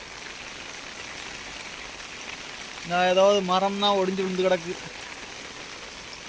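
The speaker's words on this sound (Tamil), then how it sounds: "எல்லா பக்கமும் மழை, சுற்றி வர தண்ணிக்காடு." Steady rain hisses throughout on flooded ground, with someone speaking briefly in Tamil partway through over the downpour.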